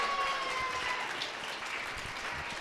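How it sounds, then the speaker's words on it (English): Continuous crowd applause at an outdoor rally, clapping hands filling the whole stretch at moderate volume with no break. "Let's give Peggy another round of applause."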